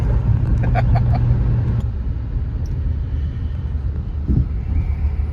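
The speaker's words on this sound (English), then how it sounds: "living on a state highway, a lot of grain trucks. That's what this is." Heavy grain truck passing on a rural state highway, heard as a loud, steady low rumble of engine and road noise throughout, with wind buffeting and a faint voice early on.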